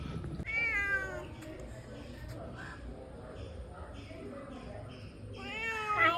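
A pet cat at a family home meows in two drawn-out, wavering calls, one near the start and one at the end, fairly close, with people talking and household background in between.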